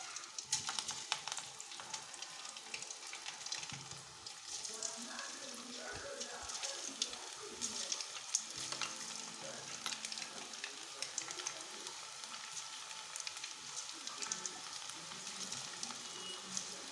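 Egg pakodi pieces frying in hot oil give a steady, close sizzle with bubbly crackle running throughout, no talk over it.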